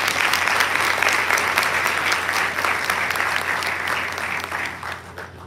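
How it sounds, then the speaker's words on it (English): An audience applauds senior award winners at a class of 2025 awards ceremony: sustained, dense clapping from many people that stays steady and loud, then begins to thin and fade near the end. "Let's give a round of applause for our senior award winners."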